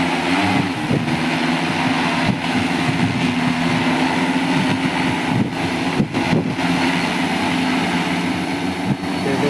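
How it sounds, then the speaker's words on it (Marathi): An agricultural spraying drone's pump runs as a loud steady whine and engine-like hum, with a few brief clicks and dropouts and no talk. "आता पंप स्टार्ट होईल."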